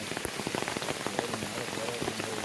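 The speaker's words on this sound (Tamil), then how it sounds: "மழை வேற பெஞ்சிக்கிட்டு இருக்கோம் பாருங்க" Rain falls steadily in a forest where tigers live, a dense patter of drops striking leaves and surfaces close by, constant and unbroken, with no talk.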